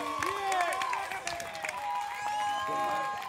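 Crowd applause and cheering at an urban music rap battle, mixed with whistles, voices and background music, with the clapping partly masked beneath the noise.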